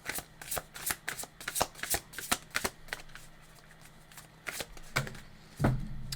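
Tarot cards are shuffled close by in quick bursts of crisp riffling and slapping, several rapid flurries followed by a few separate taps and a softer thump near the end, with no talking.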